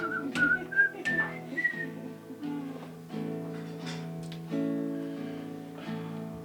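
A person whistles melodic tunes, clear sustained notes with some sliding pitches and short phrases, close and alone.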